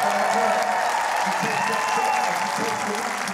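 A crowd applauds at a women's archery quarterfinal as Britain's Sharon Vennard wins her match, sustained clapping throughout with a commentator talking over it.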